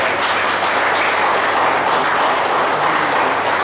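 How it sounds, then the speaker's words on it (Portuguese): Church congregation applauding after a sermon, a dense, continuous wash of clapping that is loud and sustained from start to finish, with no voice standing out. "Vamos aplaudir o Senhor Jesus por essa palavra."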